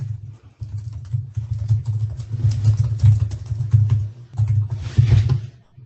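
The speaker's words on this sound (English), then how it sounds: "I hear someone typing" Rapid keystrokes on a computer keyboard clatter in dense, uneven bursts, loud and close, with a couple of brief pauses between runs of typing.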